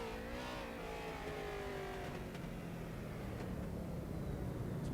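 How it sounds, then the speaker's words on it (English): The number 57 street stock race car doing a burnout at USA International Speedway, a sustained engine roar that falls in pitch and then gives way to a broad, steady rasp of spinning tires. "And the burnout celebration from the 57 of Triska."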